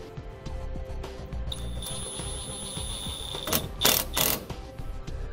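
A 5/16 socket ratchet tightens the mounting bracket of a magnetic 7-way trailer connector, giving a few quick bursts of close metallic clicking over a steady background hum.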